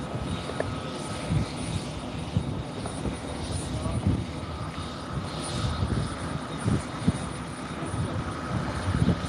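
A light airplane departs Barton Aerodrome, its propeller engine droning steadily and fairly loud throughout, with faint outdoor background and no clear talk.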